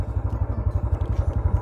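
A motorcycle on a road near Syangja, Nepal, its engine thumping in a fast, even low pulse close by, loud and steady with faint rattles on top.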